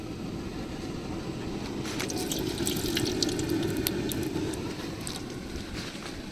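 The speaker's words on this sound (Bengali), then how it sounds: "চুলা গরম হয়ে গেছে, এখন সরষের তেল দিয়ে দিতে হইব।" Pure mustard oil is poured into a hot pan on a stove, a continuous pouring rush that is joined midway by faint, brief crackling spatters.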